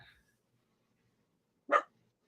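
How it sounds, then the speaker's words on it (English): A single short dog bark in the background of an otherwise quiet room, clear and fairly close, standing alone after a brief trailing sound at the start. "We got the doggy in the background causing trouble."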